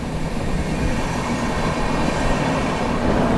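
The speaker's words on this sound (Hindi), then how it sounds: "यहाँ पर सामने से आती हुई आनंद विहार टर्मिनल पूरी पुरुषोत्तम एक्सप्रेस" The Anand Vihar Terminal–Puri Purushottam Express approaching on the line: a broad, steady rumble of wheels and carriages, loud and continuous, with faint rail squeal and no talking.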